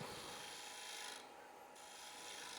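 Steady, continuous rasping grind of a power carving tool running at low speed against wood, close and even throughout, with a brief slight dip in intensity midway.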